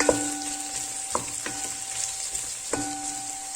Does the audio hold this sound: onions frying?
yes